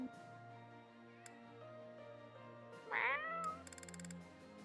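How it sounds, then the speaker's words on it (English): A single drawn-out cat meow in Fire Emblem: Three Houses rises over soft, sustained background music, followed by a run of quick light ticks. "I just hear the meows in the distance."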